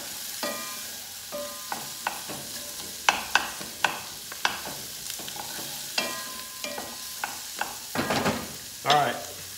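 Onions cooking in a pan for a keto leftover pork roast soup, with soft sizzling and a string of close stirring scrapes and clanks at uneven intervals, louder toward the end.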